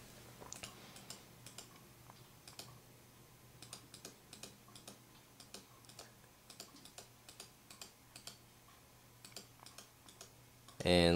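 A computer mouse is left-clicked over and over to draw a maze in a simulator program, giving quiet, evenly spaced clicks at a steady rhythm, followed by a louder burst of sound at the very end.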